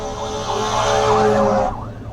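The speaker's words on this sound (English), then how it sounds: "Oh boy, I hear sirens." A wailing siren sweeps up and down over steady traffic rumble, fairly loud and close, fading slightly toward the end.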